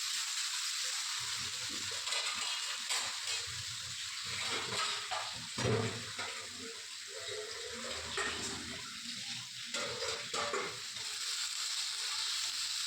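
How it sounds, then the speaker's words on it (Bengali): Potatoes frying in a pan with garlic and bay leaf give a steady, faint sizzle and crackle throughout, with occasional louder spits and no voices. "রসুন আর তেজপাতা সোমবার দিয়ে আমি আলুটাকে ভেজে নিচ্ছি।"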